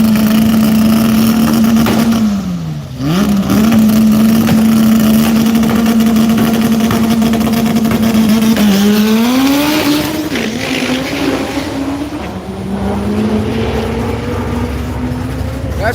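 Honda drag car on a dragstrip at night, its engine droning loud and steady, then rising in pitch as it accelerates and shifts, with race-car roar and tire noise and no talking.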